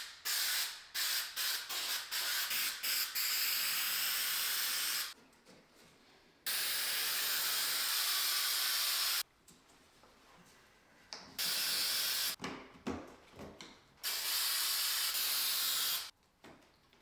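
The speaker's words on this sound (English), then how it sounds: "you want to spray the adhesive on the area that you're looking to trim out and the piece of vinyl bead itself" Spray adhesive hisses from an aerosol can onto a vinyl corner bead and the wall around a bathroom window, in several loud bursts of varying length separated by short pauses, with no talking.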